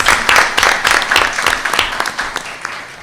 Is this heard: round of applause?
yes